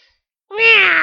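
A single drawn-out cat meow in a French story about a cat and a sheep, starting after a brief silence and rising into a clear, close, loud tone that holds to the end.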